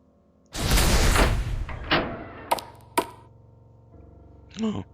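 Door opening in the horror game Case 03: True Cannibal Boy: a broad rushing creak-and-swing that swells and fades over a couple of seconds, followed by a few sharp knocks and a brief rattle near the end, with no talk.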